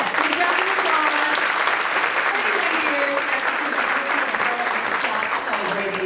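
Steady, loud crowd clapping at a community service organization's 31st anniversary celebration, sustained throughout with a few voices audible underneath.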